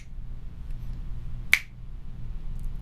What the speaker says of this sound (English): if I asked you to snap along with me